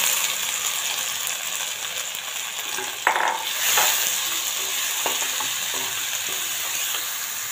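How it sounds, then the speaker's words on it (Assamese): A pea mixture for kebabs is poured into a pan of frying cumin seeds. A steady close sizzle swells after a sharp clink partway through, then continues with light stirring clatter. "এতিয়া মই মটৰৰ মিশ্ৰণখিনি ঢালি দিছোঁ।"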